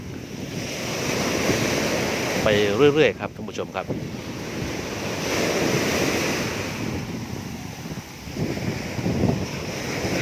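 Gulf of Thailand waves wash and break steadily against a sandy beach in Pattani, Thailand, amid gusty wind noise, while someone speaks briefly over the surf.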